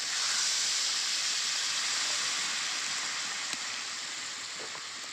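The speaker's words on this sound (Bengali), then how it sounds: "এবার জল দিয়ে দেবো।" Water poured into a pan of frying potatoes and fish-head pieces for a Bengali rui fish curry, giving a sustained loud hiss of steam that slowly fades, close and alone without talk.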